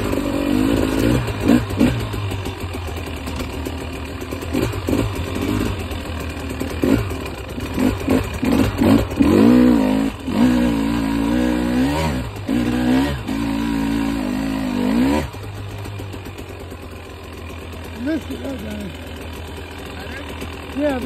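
A 2022 KTM 300XC two-stroke dirt bike engine revs up and down in repeated throttle bursts while riding, loud and close, then settles lower toward the end.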